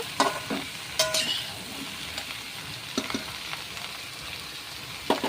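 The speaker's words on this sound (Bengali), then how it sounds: "আমি এইভাবে ভেজে নেব বন্ধুরা এভাবে ভালো করে ভেজে কষিয়ে নেব" Bottle gourd fries in a pan on a soft steady sizzle, broken by several sharp scrapes and clinks as a spoon stirs it; no talk.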